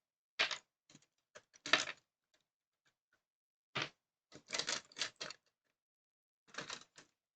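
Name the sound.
plastic dice being taken out of a container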